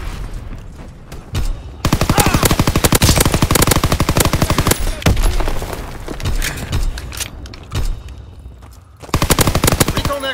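Rapid automatic gunfire in a military video game rattles in long, loud bursts, with brief pauses and scattered single shots between the sustained volleys.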